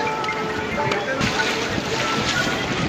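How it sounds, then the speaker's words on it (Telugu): Strong wind sweeps across the river bank at Srisailam dam, making a loud, continuous rushing roar with gusty buffeting against the microphone throughout. "ఇక్కడ గాలి కొంచెం ఎక్కువ ఉంది"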